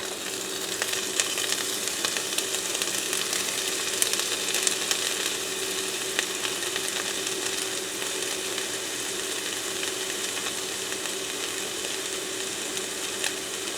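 Chopped spinach fries in a pan with a steady, moderate sizzle and crackle, continuous and even throughout with faint scattered pops.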